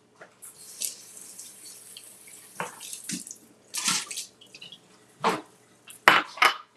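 Fresh strawberries rinsed under a running kitchen tap, with intermittent bursts of splashing water and brief clattering as the berries are handled in the sink, no talking.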